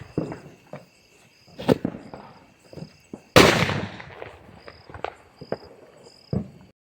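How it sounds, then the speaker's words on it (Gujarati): A firecracker bomb bursts on the ground during Diwali in a village, a single loud sharp blast with a long crackling tail, surrounded by smaller scattered pops and cracks from other fireworks nearby. "એઠે નેઠે ધમાકો થઈ ગયો, ઉપર ગયો જ નહીં"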